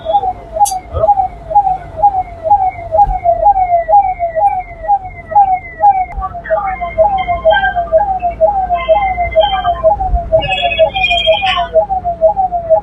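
An emergency vehicle siren wails in a fast, steady repeating cycle on a city street in Bhiwandi, India, loud and close throughout, with other brief tones and faint background noise joining partway.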